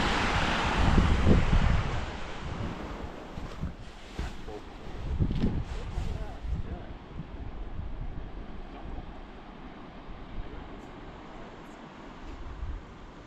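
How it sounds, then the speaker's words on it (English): Ocean surf washes in and out at Cape Hillsborough, Australia, with broad rushing swells, heavy wind buffeting the microphone in between, no voices. "Only the sounds of the waves."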